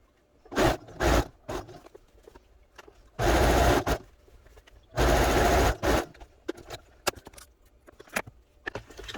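Sewing machine stitching the collar of a boy's kurta, heard in several short bursts of rapid whirring, two of them longer and louder, separated by quiet pauses and fabric handling, with no talk.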